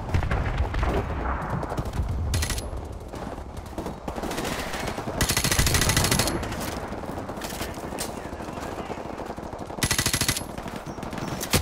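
Video game gunfire in Modern Warfare Remastered: rapid machine-gun bursts and single shots crack loudly and repeatedly, with several heavier blasts mixed in, forming a dense, continuous firefight.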